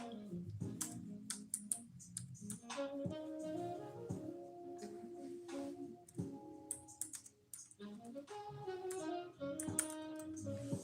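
Quiet typing on a computer keyboard, soft irregular key clicks in short bursts, partly under music and a voice in the background.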